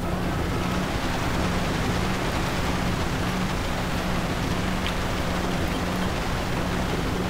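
Rain in GTA San Andreas with an ENB graphics mod, a dense steady hiss of falling rain with a faint low hum beneath, constant and fairly loud with no talking.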